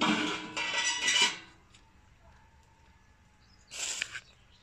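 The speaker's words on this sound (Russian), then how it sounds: "Кладем решетку." An oiled metal grate is set into a home hot-smoker for fish over soaked cherry-wood sawdust, giving two bursts of metallic clanking and scraping separated by a quiet pause, close and moderately loud.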